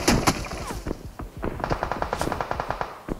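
Rapid bursts of machine gun fire crackle through a battle royale shooter match, many sharp shots in quick uneven volleys, some closer and louder, others distant, with no talk over them.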